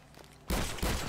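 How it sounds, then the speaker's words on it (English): Two heavy, booming shotgun blasts in GTA 5, loud and close, spaced about a third of a second apart after a quiet lead-in. "I'll turn around with my shotgun and the second gun."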